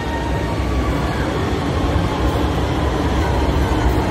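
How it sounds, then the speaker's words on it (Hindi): Orange Line metro train passing along its elevated track, a loud, steady rumbling roar with broadband rail noise that holds constant through the whole stretch without pause. "ये देखिए, ये ट्रैक से ट्रेन जा रही है।"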